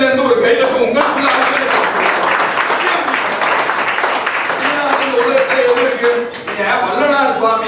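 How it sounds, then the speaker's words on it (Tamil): Applause from a large audience, dense clapping that fills the whole stretch loud and steady, with a voice speaking over it throughout. "நீங்க அத்தனை பேர் சேர்ந்து ஒரு கைதட்டு உங்களுக்கு"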